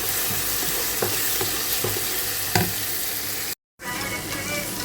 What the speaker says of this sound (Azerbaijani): Baxın, artıq qovurdum.